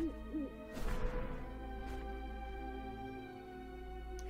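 Owls hoot in an animated series about Hades, with a couple of low hoots heard over a steady hum, followed by a sharp crash and a few faint thuds.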